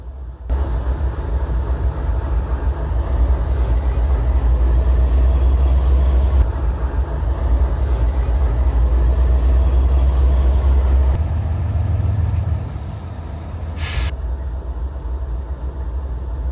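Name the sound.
struggling train engine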